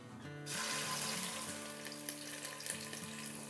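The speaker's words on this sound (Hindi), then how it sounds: "हम सॉटे करेंगे थोड़ा सा" Ground spices hit two tablespoons of hot oil for a hot and sour chicken and vegetable soup, starting a steady, close sizzle that runs continuously with light stirring clatter.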